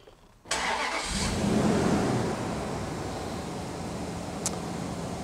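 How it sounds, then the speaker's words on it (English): A Chrysler car engine cranks and catches with a sudden burst, then settles into a steady, close idle that runs on alone. "So I'm going to start the engine."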